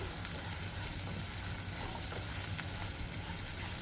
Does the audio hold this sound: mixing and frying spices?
yes